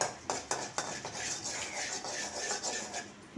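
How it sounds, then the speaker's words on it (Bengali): Mustard seeds crackle and sizzle in a pan while a utensil scrapes and clinks against the metal in quick, close strokes, with a bright hiss of frying beneath. "সর্ষা দিয়ে দিলাম সর্ষাটা একটু ফুটুক"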